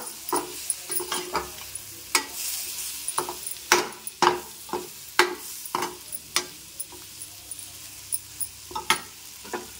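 A spoon stirs eggplant curry (Andhra-style kathirikai podi kari) in a hot pan, giving a series of irregular scraping and clattering strokes over a faint sizzle, close and fairly quiet.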